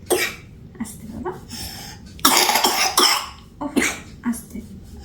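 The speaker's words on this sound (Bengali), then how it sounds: "কাশিটা প্রচন্ড হয়েছে" A child with a severe cough produces a series of loud, harsh, close coughing bursts at irregular intervals, with a long strong fit in the middle and throat clearing between.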